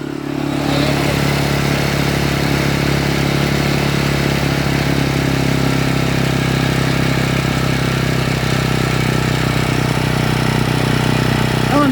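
A small tiller motor for hoeing runs steadily at reduced throttle, a loud, close, even mechanical hum with a buzzing putter and no change in pace.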